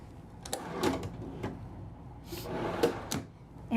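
Deep drawers in a Winnebago Journey 36M motorhome kitchen sliding open and shut, several muffled thumps and rolling slides spread unevenly over a few seconds, close by with no talking.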